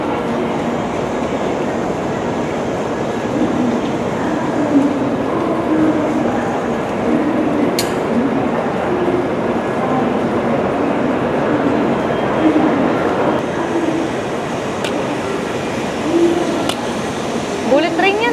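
A Shinkansen bullet train in Osaka makes a steady rumbling, whooshing rail noise heard from a station or carriage, with soft clicks and occasional sharp ticks, while people talk over it throughout.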